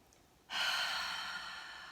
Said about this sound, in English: we're gonna take a full inhale through the nostrils, exhaling through the mouth.